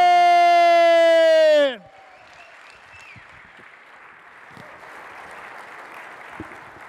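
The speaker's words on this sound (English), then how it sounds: "Put your hands together for the President of Directions," A loud sustained harmonic siren-like tone sweeps down and cuts off, then a conference audience at a general opening session applauds softly and steadily for several seconds.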